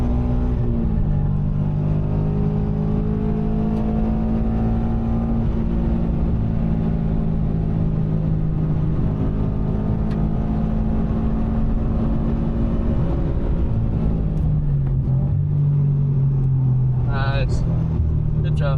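A Subaru BRZ track car at racing school on an F1 circuit, its engine droning loud and steady from inside the cabin, pitch climbing and dropping with throttle, while an instructor speaks over it.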